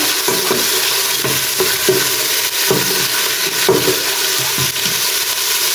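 Garlic with salt frying in a little oil, a steady sizzle broken by repeated scrapes and knocks of stirring at a fairly even rhythm, close and loud.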